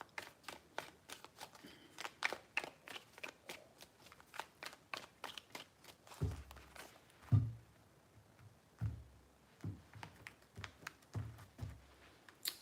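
Tarot cards shuffled repeatedly in a quick, crisp riffling patter with sharp clicks, settling into a few softer, separate shuffles and taps near the end, close and fairly quiet with no talk.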